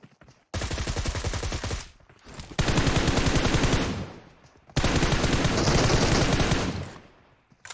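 Rapid automatic MK rifle fire in PUBG Mobile rattles out in three long, loud, dense bursts separated by short pauses, each burst tailing off with echo.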